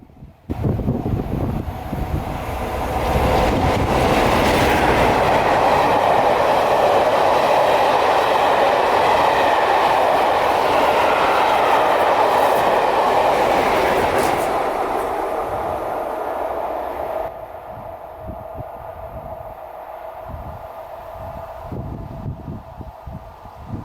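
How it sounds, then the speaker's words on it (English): A train hauled by electric locomotive 86 259 approaches on the line near Carlisle and Lazonby, a loud rumbling roar with clickety-clack that builds and holds steady before fading, with some wind buffeting the microphone. "the ear detects the sound of an approaching train"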